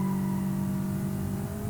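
A car engine in BeamNG.drive, revved after a clutch dump, holds a steady, strong droning tone with clear harmonics for under two seconds.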